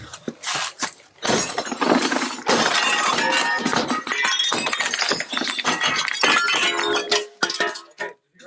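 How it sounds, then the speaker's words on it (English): Police break a house window with a Halligan tool: repeated loud crashes of shattering glass come close and harsh, followed by tinkling shards falling and clinking. "they're smashing a window with a Halligan tool"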